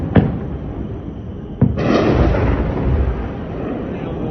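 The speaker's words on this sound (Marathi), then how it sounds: "पंजाबमधल्या तरण तारण परिसरात स्फोटांचे मोठे आवाज आणि तोफगोळे डागल्याची ही शक्यता व्यक्त होती" Explosions and artillery shelling around Tarn Taran in Punjab, heard as two sharp, loud bangs followed by a long, rumbling wash of distant booming noise that slowly fades out.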